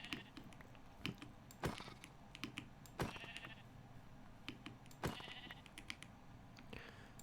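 Sheep bleat repeatedly in a modded Minecraft survival game, several short nasal bleats spaced a second or two apart over a quiet background with light clicking.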